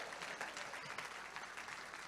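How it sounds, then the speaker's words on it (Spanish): A church congregation claps loudly and steadily during an evangelical Spanish-Dutch sermon, dense applause filling the room throughout. "Vamos, dale fuerte el aplauso al Aleluya."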